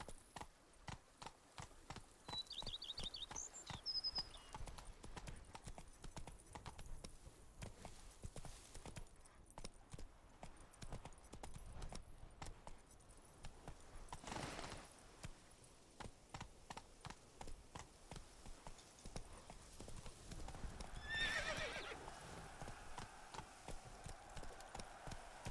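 Galloping hoofbeats of the horse Roach in The Witcher 3: Blood and Wine, a rapid steady clip-clop running on under game ambience with a brief whinny and occasional clicks.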